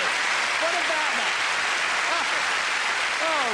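A television studio audience on a Bruce Forsyth game show gives loud, continuous applause, a broad unbroken roar of hands with a few faint cheers and whoops rising through it.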